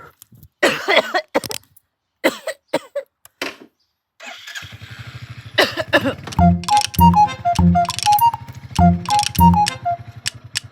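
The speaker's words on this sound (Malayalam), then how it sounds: "പാവം നല്ല ചുമയുണ്ടല്ലേ" Several sharp coughs come in short, separated bursts at the start, followed by a loud, rhythmic, motor-like chugging that takes over the rest of the scene.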